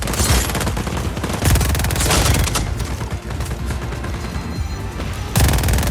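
Sustained rapid gunfire fills a Just Cause 4 firefight, dense overlapping automatic bursts and booms that are loud and continuous throughout, with no voices.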